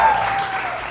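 A studio audience claps on a Pakistani TV morning show, a brief burst of steady applause filling the whole moment.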